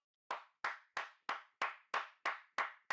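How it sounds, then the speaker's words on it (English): Eight sharp hand claps in a steady, evenly spaced rhythm, close and fairly loud with nothing else behind them. "I'm clapping."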